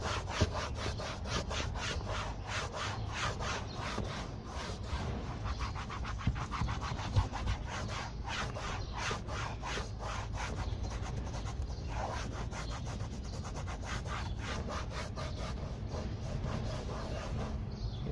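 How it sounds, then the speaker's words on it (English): Rhythmic rubbing of a cleaning cloth scrubbed up and down over a leather car seat, a steady close-up scratchy friction that continues without break. "Now start scrubbing it. Up and down, up and down, up and down, up and down."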